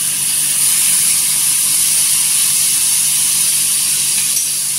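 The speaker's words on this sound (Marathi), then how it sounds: "लोखंडी तवा आहे त्याच्यामध्ये लिंबू टाकलाय" Lemon juice sizzles on a hot iron griddle as a loud, steady hiss that holds unbroken from start to end, close up, with nobody talking.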